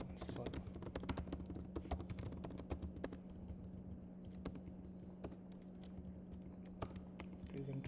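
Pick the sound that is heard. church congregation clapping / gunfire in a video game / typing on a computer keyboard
typing on a computer keyboard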